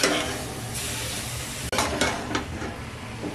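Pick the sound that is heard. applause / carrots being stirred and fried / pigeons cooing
carrots being stirred and fried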